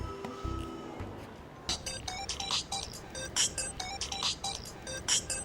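A mobile phone ringtone for an incoming call plays as a repeating, bright electronic melody. Its short phrases recur at a moderate level over a quiet background.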